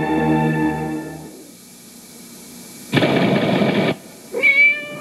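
A cat meows in a Purina Cat Chow commercial, a short rising call near the end that follows a loud burst of noise and a low sustained tone at the start.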